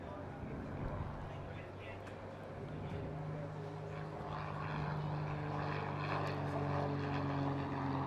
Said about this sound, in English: It's got an injected 160 horsepower engine, a 3-blade constant speed propeller, and also inverted fuel and oil systems.